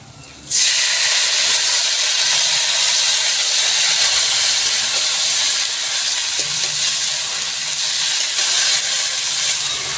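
Steady loud sizzling and hissing of cabbage frying in a hot pan with toasted coconut, starting abruptly and continuing without pause, no voices.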